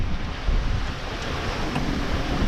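Waves breaking and surging around a singlehanded sailboat crossing the Atlantic toward the Azores, with strong wind buffeting the microphone in a steady, loud roar and no voices.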